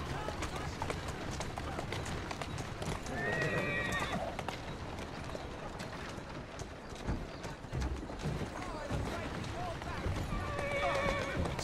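Hooves clip-clop steadily as a horse runs in the Assassin's Creed video game, and whinnies twice come through clearly. Someone speaks over the hoofbeats throughout.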